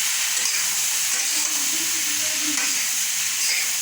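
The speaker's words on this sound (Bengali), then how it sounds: "হলুদ দিয়ে দিলাম। এভাবে নাড়তে হবে কিছুক্ষণ।" Potatoes with turmeric frying in a pan for aloo dum, a loud continuous sizzle and hiss with faint stirring underneath, no voices.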